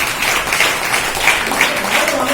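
A congregation claps together during a Telugu church sermon, a steady crowd applause with a few sharper clustered bursts of hands standing out, fairly close and loud throughout.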